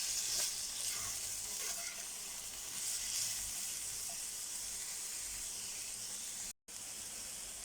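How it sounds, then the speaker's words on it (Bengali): Potatoes fry lightly in hot oil with a steady, close, hissing sizzle that holds evenly throughout, broken by one brief dropout near the end. "আলুটাকে হালকা করে একটু ভেজে নেব।"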